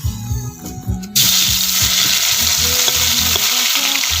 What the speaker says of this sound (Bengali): মা পুঁটি মাছ ভেজে নিচ্ছে